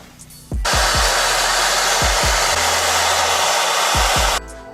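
A torch flame roars steadily while heating rusty brake caliper bolts on a Honda scooter, switching on with a sharp whoosh and holding loud and close for about four seconds before cutting off, with clicks of the igniter around it.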